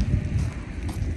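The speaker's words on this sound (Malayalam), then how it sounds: "ഇടിയാണ് വെട്ടണ കേട്ടോ," Thunder rumbles low and heavy beneath a steady patter of rain on an overcast day during a long-distance horseback ride in India; there are no voices.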